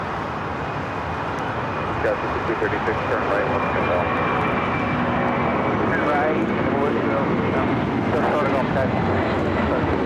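An Alaska Airlines jet airliner rolls down runway 25 right at LAX, a steady broad engine roar heard from a distance, sustained and even throughout with no talking.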